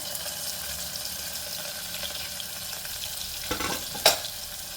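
Onion frying in oil for mutton masala gives a steady, close sizzle, with a couple of brief scraping stirs near the end and no talk.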